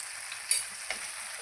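Ground spice paste for a chickpea curry sizzles and fries steadily in a pan, a close continuous hiss with a couple of faint stirring scrapes.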